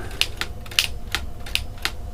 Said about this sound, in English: look at the action on this typewriter